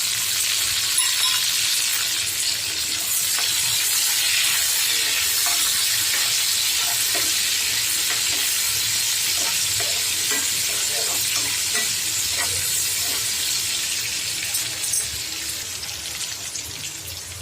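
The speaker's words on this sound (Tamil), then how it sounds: "பூண்டு வெங்காயம் ஓரளவுக்கு வசங்கிடுச்சு." Garlic, onion and chopped tomato fry in a pan for a bread chilli snack, a constant bright sizzle with occasional soft scrapes of stirring, close and continuous with no talking.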